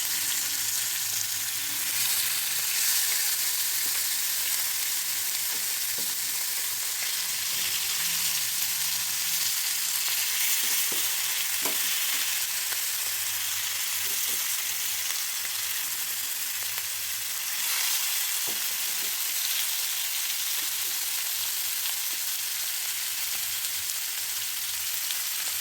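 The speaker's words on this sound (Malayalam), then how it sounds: "ഹൈ ഫ്ലെയിമിൽ ഫ്രൈ ചെയ്യുമ്പോൾ ആ മീനിൻ്റെ ഫ്ലഷ് നല്ല സോഫ്റ്റ് ആയിരിക്കും" Fish frying over a high flame in hot oil in a pan, a steady dense sizzle with crackling pops running continuously throughout, close and fairly loud, with no voices.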